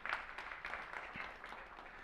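An audience at the Nasscom Future Forge 2023 event applauds with a faint, steady patter of clapping that lasts a couple of seconds.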